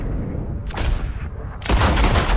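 Gunfire in Red Dead Redemption 2, a pair of loud bursts, each a sharp booming crack with a rough echoing tail. The second shot is louder and heavier than the first.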